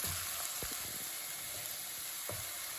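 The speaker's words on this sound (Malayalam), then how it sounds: "ഇനി നമുക്ക് ചതച്ച് വെച്ചിരിക്കുന്ന ചുവന്നുള്ളി ഇട്ട് കൊടുക്കാം" Crushed shallots sautéing in a hot pan for chicken thoran give a dense, constant hissing sizzle, with a few faint low taps of stirring beneath it, close and even in level, with no talking.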